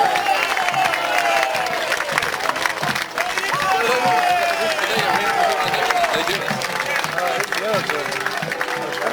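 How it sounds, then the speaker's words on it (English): Festival crowd cheering and clapping for a procession of King Arthur's costumed warriors, continuous applause and shouts outdoors while an announcer speaks over the noise. "So give King Arthur a cheer, please, ladies and gentlemen."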